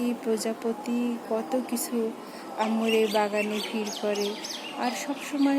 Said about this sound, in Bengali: এই যে শুনতে পাচ্ছেন পাখি গান গায়